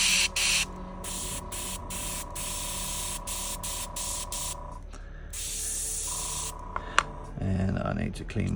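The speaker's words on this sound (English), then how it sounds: "I'm going to start shooting the matte varnish into the edges" Matte varnish hisses from a spray nozzle in long bursts onto miniature snow bases, broken by short pauses and stutters where the nozzle clogs, loud and close.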